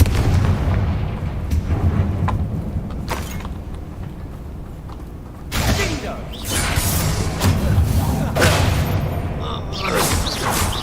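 Loud, deep blasts from the Confringo fire spell in the video game Hogwarts Legacy, with heavy booming impacts over a dense roar of battle noise.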